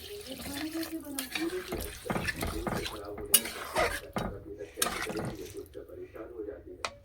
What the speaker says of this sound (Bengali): জল দিয়ে দিচ্ছি, একটু ঝোল হবে